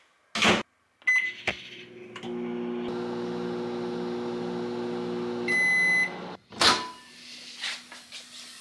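A microwave oven hums steadily for several seconds while heating Japanese A5 Wagyu beef, framed by door clunks, a few high electronic beeps near the end, and a faint tail of hum.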